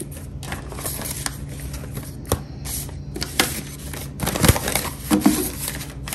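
Budget envelopes holding cash being shuffled by hand, a run of close, dry papery rustles, slides and soft taps in irregular bursts, growing a little busier toward the end, with no voices.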